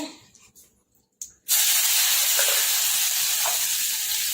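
Green garlic, ginger and green chillies dropped into hot tempering oil with asafoetida and mustard seeds for Gujarati garlic potato vada, bursting into a loud, sustained sizzle after a brief quiet start, close up with no talking.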